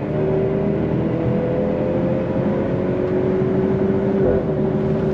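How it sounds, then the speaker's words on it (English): 2023 Maserati Grecale SUV accelerating on throttle in comfort mode, a loud steady engine hum heard from the cabin, rising slowly in pitch then dipping slightly near the end as the transmission shifts, with constant road rumble beneath. "We'll go on throttle and comfort mode so you could hear that."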